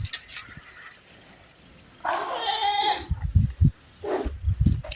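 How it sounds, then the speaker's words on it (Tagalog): Goats bleat while being herded outdoors, several loud, close cries rising and falling over a short stretch, with rustling and footsteps between them. "Tingnan natin yung ating mga alagang kambing."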